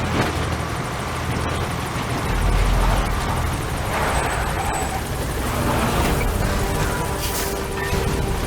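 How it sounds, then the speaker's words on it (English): A support helicopter arrives in the video game Metal Gear Solid 5: The Phantom Pain, a dense, steady rotor and engine rumble mixed with game effects and no talking. "Support helicopter has arrived."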